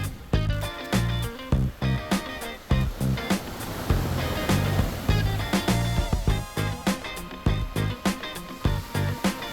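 Onshore wind-driven waves break and dump on the inside near the shore at a skimboarding beach, a rough sequence of close, choppy crashes and surf wash with no voices.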